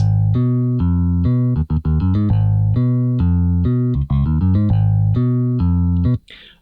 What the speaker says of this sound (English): the next section to talk about is this left-hand piano and bass ostinato